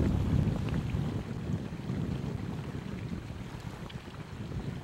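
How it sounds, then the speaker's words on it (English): Wind gusting and buffeting the microphone while kayaking past turquoise icebergs in the Upernavik Icefjord area of Greenland, a continuous low rumble with faint water lapping, fairly quiet and without talking. "The wind is blowing."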